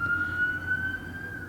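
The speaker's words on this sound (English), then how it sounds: "Let's wait for the ambulance." An ambulance siren passing outside, a steady high wailing tone heard through walls with low traffic rumble underneath, fairly loud and continuous with no talking.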